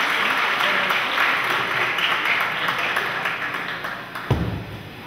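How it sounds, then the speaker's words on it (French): An audience applauds a dance group in a sustained, dense wash of clapping that gradually thins and fades, with a single thump near the end. "Applaudissez encore une fois."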